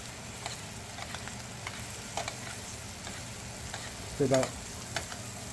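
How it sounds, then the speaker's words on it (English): Halibut fillet sizzling in a pan with a garlic butter bath, a steady close crackle with scattered small pops and one brief louder burst near the end; a voice speaks briefly. "Push your fish to the side. And now, give it a butter bath."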